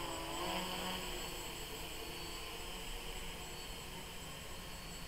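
A BumbleBee 550 RC multirotor coming in to land gives a steady, loud, close whining motor drone with a constant high-pitched hum throughout and no talking.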